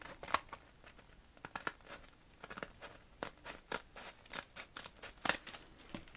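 Scissors snip through paper breakfast bags in a quiet room, with a steady run of crisp close cuts and soft crinkling of the bags between them.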